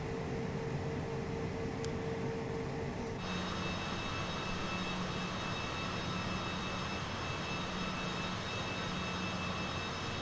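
A steady, loud cockpit drone of a Citation CJ4 business jet fills the cabin as a tug pushes it back from the stand. The hum rises slightly partway through and keeps a constant tone with no speech.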